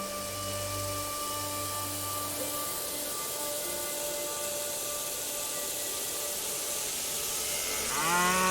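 Cattle at a cattle operation in the railway strategy game Railway Empire 2 give long, drawn-out moos, one early and another rising near the end, over steady ambient noise.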